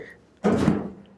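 Mobile base of an Axminster Craft AC216TS table saw locked back down, one solid thunk followed by a brief rattling decay in a quiet workshop.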